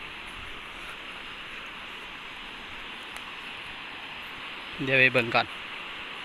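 Water rushes over river rapids in a steady, hissing roar that continues throughout, with someone speaking briefly near the end.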